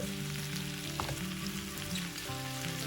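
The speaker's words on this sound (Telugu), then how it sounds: "1/2 టీ స్పూన్ పసుపు వేసి వేయించుకోండి. 4-5 నిమిషాలు వేయించుకుంటే వంకాయ వేగిపోతుంది." Brinjal fries with turmeric in a pan, giving a soft, steady, even sizzle close by, with faint tonal hum beneath and no speech.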